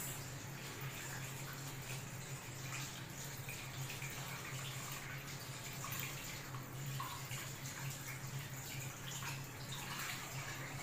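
Water runs steadily from a tap while something is rinsed after soaping, a continuous soft hiss and splash close by with no pauses.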